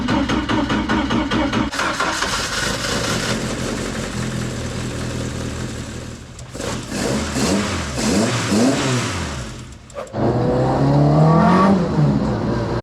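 A Ford Escort engine, cold and running rough, fires up and settles into a loud, close idle, then revs repeatedly in rising and falling surges, with a brief dip before a final hard rev.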